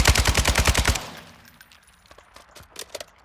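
An RPK machine gun in Warzone 2 fires a fast burst of about nine loud, close shots in under a second, then only faint scattered clicks and soft game noises follow.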